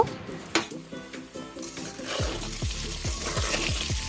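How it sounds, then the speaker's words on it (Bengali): Eggs frying in hot oil in a pan: a steady sizzle builds and fills the second half, with a few soft knocks and clinks of utensils, close by. "এখানে ডিমগুলো আমি তিন মিনিট মতো ফ্রাই করে নেব"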